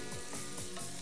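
Sesame seeds, urad dal and dried red chillies dry-roasting in a small pan on the stove with no oil, giving a steady, close sizzle with soft rhythmic scraping of stirring.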